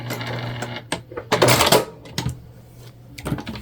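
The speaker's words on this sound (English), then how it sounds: "we're just basting this in place at the moment" Sewing machine basting fabric for a candy bag, with short mechanical whirring stitch runs separated by pauses, plus a louder burst of rattling stitching in the middle, all close and fairly clear.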